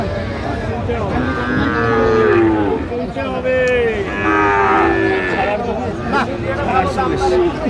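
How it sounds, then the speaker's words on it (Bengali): A Sahiwal bull calf moos repeatedly in long, drawn-out calls at a Narsingdi cattle sale, under steady chatter and crowd babble. "শাহিওয়ালার ষাঁড় বাচ্চা আমরা দেখছিলাম।"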